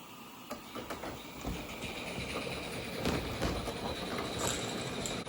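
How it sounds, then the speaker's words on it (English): Radio-controlled live steam model locomotive running outdoors, a faint continuous hiss with scattered light clicks and rattling mechanical ticks, fairly distant and steady throughout. "a radio-controlled live steam locomotive doesn't run as finely as an electric train"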